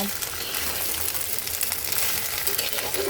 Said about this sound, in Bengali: তেলের সাথে সবজিটাকে খুব সুন্দর করে মিক্স করে দিয়েছি